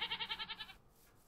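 A Minecraft goat bleats in a fast wavering run of about eight pulses, a quick trembling call that ends abruptly and leaves near silence.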